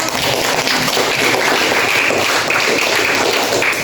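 A classroom of students claps in a dense, even burst lasting a few seconds, loud and close, with no voices over it.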